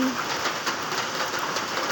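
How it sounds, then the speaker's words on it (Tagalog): Steady rain hisses evenly and close, with a faint bird call at the very start. "Wala na katapusan ng ulan."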